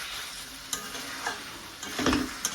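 Meat and potatoes sauté in a pan, a constant sizzle broken by several close scrapes and clacks of a spatula stirring, the loudest scrape near the end, no voices.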